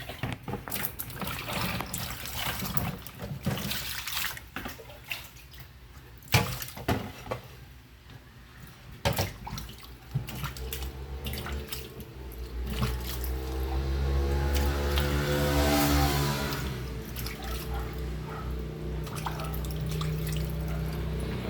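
Vegetables being washed in water, with intermittent splashes, drips and clatters close by, then a steadier running-water rush for the last several seconds, fairly quiet.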